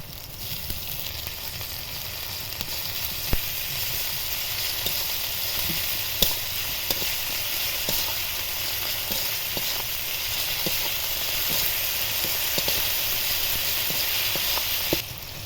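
Ginger garlic paste hits softened, salted onions in a hot pan while making a pea ghugni curry, giving a steady, close sizzle and hiss throughout with occasional sharp crackles and pops.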